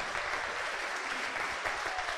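A church congregation claps together in a dense, steady burst of applause, loud and close, lasting briefly without pauses.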